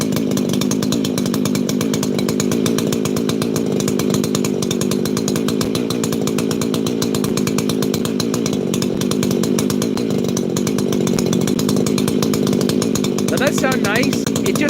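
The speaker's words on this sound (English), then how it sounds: "And it'll sit there and idle like that all day. Again, not ported." Chainsaw with an unported engine idling steadily, a close, even buzzing putter that holds without change throughout, with someone talking over it.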